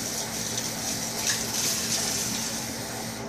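Half a cup of water being poured for borax slime, a steady hissing rush from a tap or cup, close and continuous for a few seconds with no talking.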